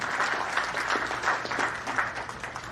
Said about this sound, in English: Now I will give him a round of applause.